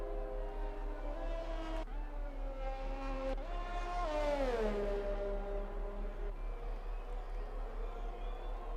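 A Ferrari race car in a racing video game pulls out of the pit lane, its engine note climbing through several upshifts with sharp gear-change breaks, then a long falling sweep as it passes, fairly quiet and steady throughout.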